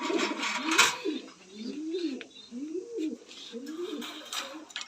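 Fancy pigeons in an outdoor loft give a series of rhythmic rolling coos, four or five close calls in a row, with a voice and light noises heard between them.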